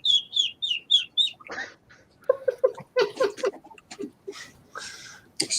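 A man whistles and chirps in imitation of birds singing in woodlands, a quick run of five bright tweets followed by warbling and clucking calls, close and alone.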